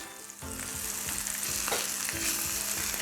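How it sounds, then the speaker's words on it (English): Pork chops sizzle and brown in a skillet, a dense close frying crackle with a few scraping knocks, steady and moderately loud throughout. "So we're gonna flip these over, we're gonna get a nice little browning going on the other side"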